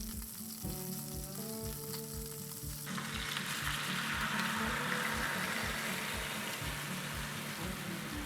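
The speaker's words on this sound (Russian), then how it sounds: "Переворачиваю окорочка на другую сторону, жду буквально 1-2 минуты и выливаю к ним томатный соус." Chicken leg quarters sizzle steadily in a frying pan, and the frying swells into a louder, broader hiss about three seconds in as tomato sauce is poured over them. A regular rhythmic clatter runs beneath it.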